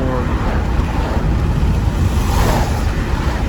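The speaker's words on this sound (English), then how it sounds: "so it's windy, it's cold" Steady, blustery wind on a cold day near Lake Lanier, Georgia, roars across the microphone, a dense rumbling wash with no voices.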